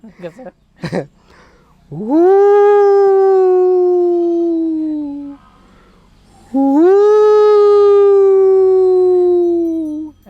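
A person imitates a dog, letting out two long, drawn-out howls one after the other, loud and close, with a brief sharp sound before the first.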